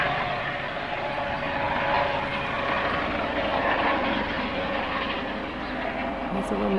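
A helicopter flies overhead, a steady engine drone with low rotor-like rumble filling the background, while people talk nearby over it.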